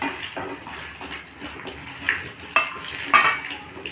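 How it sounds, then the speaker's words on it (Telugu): Cumin, fenugreek and dried red chillies sputter in hot oil in a pan, giving a soft, close crackle with small pops and light stirring over about four seconds. "వేగాక జీలకర్ర, మెంతులు, ఎండుమిర్చి,"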